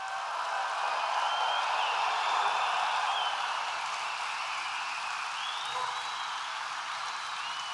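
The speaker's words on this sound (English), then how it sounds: "we want to give them a big, big, beautiful round of applause" Audience applause for veterans at a presidential event, a steady wash of many hands clapping that holds loud and even throughout with no voices over it.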